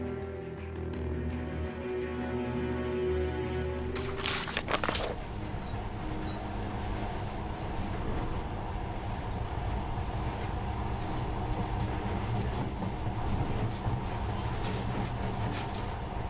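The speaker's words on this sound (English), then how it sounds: "this monorail seems magic, doesn't it?" A monorail train runs in Metro Redux, a steady rumbling drone with rattling that swells in at around four seconds after a tonal hum, then carries on loud and continuous to the end with no talk.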